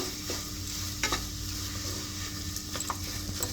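A spoon stirs spices and amchur powder into a kofta filling in a pan, with steady scraping and soft mixing noises and a few sharper clinks against the vessel, close and fairly quiet.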